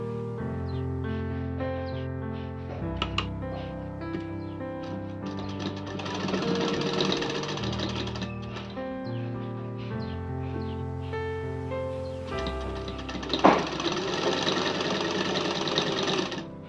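Sewing machine stitching a baby frock made from fabric scraps, a steady close mechanical whirr with rhythmic needle clatter that speeds up and pauses briefly, with no talking.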